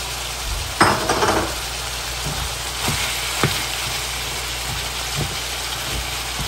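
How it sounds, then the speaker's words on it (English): Onions dumped into a hot pan over medium heat land with a clattering rush, followed by a steady hiss of cooking and a few light knocks of utensil against the pan. "I'm going to dump all of my onions in this."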